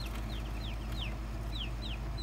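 Freedom Ranger chicks peep in a brooder, a series of short, high chirps repeating every few tenths of a second over a steady low fan-like hum, close and clear.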